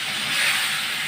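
Chopped bottle gourd hits hot fried spices in a pan and sizzles in a loud, steady hiss heard up close for a brief moment.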